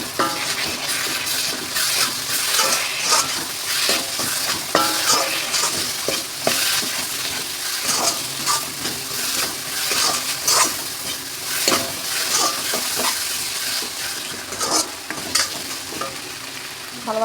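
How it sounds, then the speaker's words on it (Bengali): A paste of ginger, garlic, cumin and chilli fries in a pan, a loud continuous sizzle with repeated rhythmic stirring scrapes and occasional clinks from the pan. "ভালোভাবে কষিয়ে নেব মশলাগুলোকে।"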